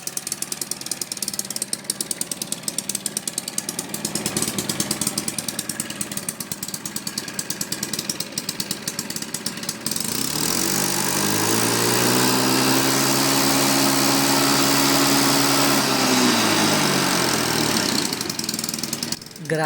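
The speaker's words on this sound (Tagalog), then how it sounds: "ipaparinig ko na sa inyo ang kanyang makina" A Honda Choi Nori scooter engine runs after a tune-up, ticking over unevenly at first, then revving up into a loud, steady drone for several seconds before easing back down, heard up close.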